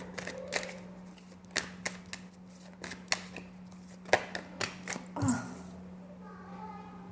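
Tarot cards being shuffled and drawn, heard as a series of soft, close papery flicks and snaps at uneven intervals over a steady low hum.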